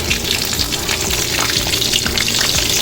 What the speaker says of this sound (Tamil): 4 பச்சை மிளகா கட் பண்ணி வச்சுருக்கேன், அதையும் சேர்த்துக்கிறேன்